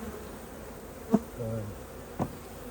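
Honeybees buzz softly around at close range in August, with a couple of brief louder buzzes as insects pass near, over a quiet background.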